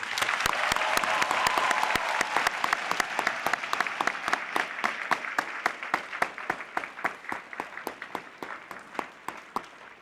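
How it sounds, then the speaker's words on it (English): Loud, sustained applause from a high school Veterans Day assembly crowd honoring veterans, a thick roar of clapping that thins into sharper, more separate claps as it tapers off. "Let's give one last round of applause for our amazing veterans."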